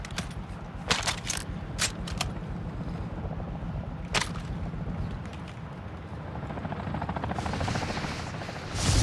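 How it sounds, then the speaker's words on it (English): A helicopter in the Call of Duty DMZ video game thrums steadily with low rotor chop, joined by sharp gunshot cracks and impacts in bursts, and a rising whoosh near the end. "So, this helicopter should fight them, right?"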